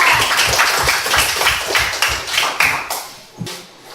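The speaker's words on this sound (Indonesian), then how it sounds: "Tepuk tangan dulu untuk teman kita." Students in a classroom during a Qur'an and Hadith lesson clap for a classmate in quick, fairly regular bursts, close and lively, tapering off with a few scattered final claps.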